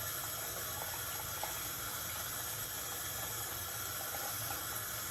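Water runs steadily from a tap for a quick rinse, a continuous close hiss and splash with a few faint knocks and no voices.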